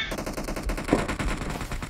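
Rapid automatic gunfire from a weapon in the video game PUBG, a dense burst of shots over about two seconds with game ambience beneath and no talking.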